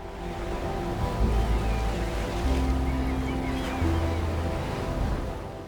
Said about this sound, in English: Only the sound of waves striking the limestone shore